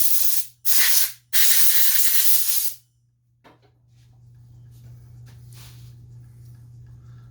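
Compressed air blasts through a Kawasaki FA210 carburetor in three loud, hissing bursts, followed by a fainter, steadier hiss after a short pause.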